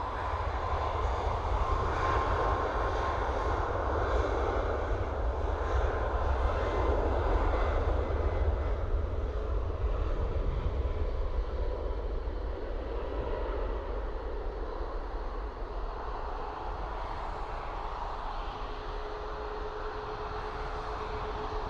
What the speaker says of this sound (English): So 737 MAX 8 of Ryanair off to Faro.